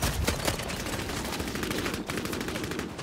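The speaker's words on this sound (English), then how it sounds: "got the death machine gun" Death machine gun in the PS5 shooter Bloodhunt during a team deathmatch, a loud, continuous stream of rapid automatic fire hammering without pause for the full three seconds.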